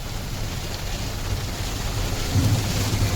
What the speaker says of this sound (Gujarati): અડધી કલાકથી પવન ને વરસાદ આમનામ ચાલુ છે.